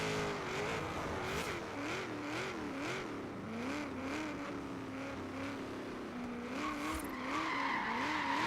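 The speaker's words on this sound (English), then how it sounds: "When I switch to 6th gear, I lose all power." A race car's engine in Forza Horizon 3 revs and drops as it shifts through gears into sixth, its pitch wavering up and down steadily under continuous tire noise, loud and close throughout.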